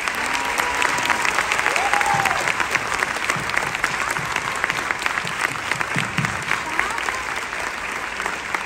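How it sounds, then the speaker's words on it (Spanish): A large crowd applauds in a theatre after a dance performance, dense sustained clapping throughout with voices and cheers mixed in. "Un aplauso,"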